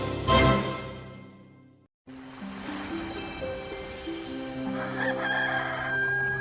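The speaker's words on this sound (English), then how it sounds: "The roosters woke me at daybreak" Roosters crow close by, one long call fading out, then a brief gap before more overlapping crowing fills the rest.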